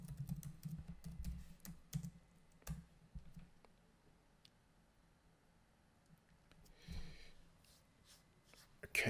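Password typed on a computer keyboard: quick bursts of soft key clicks in irregular clusters, close and fairly quiet, with a pause in the middle before a final few louder taps.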